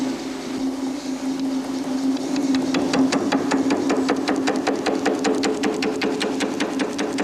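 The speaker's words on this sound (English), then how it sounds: "This tool, whose working surfaces consist of a special laminate, is employed for gentle finishing of surfaces in aluminium or stainless steel" An Eckold forming machine with a laminate-faced tool works aluminium or stainless steel sheet. A steady hum builds into rapid, evenly spaced mechanical hammering strokes that continue for several seconds, loud and close, with no voices.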